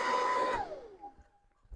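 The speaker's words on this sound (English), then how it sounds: "take my famous Dollar General blower, hair dryer" Cheap Dollar General hair dryer used as a blower during a maple syrup boil, its moderately quiet whine running briefly before it is switched off and winds down with a falling pitch into near silence.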